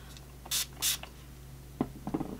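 Two short hissing spray bursts close by as liquid is sprayed onto a makeup brush, followed by faint soft rubbing and tapping sounds.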